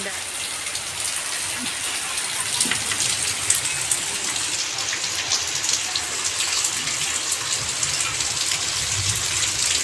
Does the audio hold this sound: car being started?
no